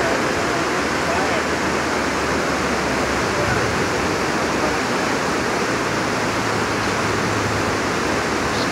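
A flooded creek rushes at Berea Falls in Berea, Ohio, high and swift, producing a loud, continuous roar of churning water that stays dense and unbroken from start to finish.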